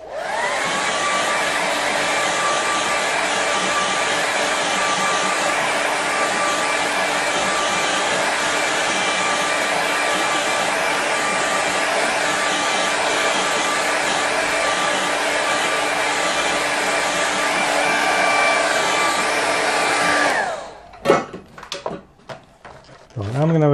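A hair dryer blowing over a watercolour painting, a loud, steady whir for about twenty seconds that then cuts off, followed by brief clatters and handling noises.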